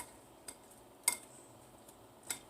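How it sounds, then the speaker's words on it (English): A utensil stirring food in a container at home gives a few faint, sharp clinks spaced out over a couple of seconds, set against quiet room noise. "I'm just going to stir that up"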